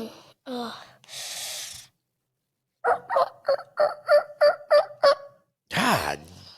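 A person imitates a turkey gobble with a mouth call, giving a quick rhythmic run of about eight sharp, loud yelps, with a short breathy sound before it and a further vocal sound after it.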